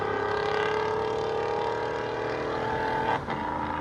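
A Toyota Tundra 5.7L V8 with an aftermarket exhaust gives a clean, deep, steady drone that holds, then dips briefly near the end, heard moderately close with no talk.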